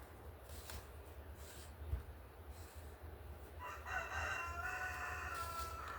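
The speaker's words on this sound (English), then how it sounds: "You have to forgive my rooster, that is Mr. P. It's been very crowy today." A pet rooster named Mr. P crowing at a distance behind faint background noise, with one drawn-out cock-a-doodle-doo building in the second half.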